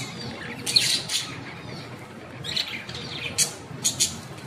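Pet budgerigars in a large cage give short, high chirps and squawks in scattered bursts over a soft background hiss, fairly close.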